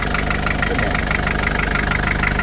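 A used car engine idles steadily up close, a continuous rumble with an even, slightly knocking pulse and no voices.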